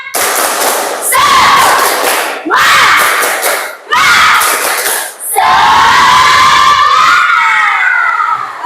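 A classroom group does an Indonesian spirit clap, tepuk semangat, in loud rhythmic bursts of clapping and chanted shouting, separated by brief pauses, with a longer sustained cheer at the end.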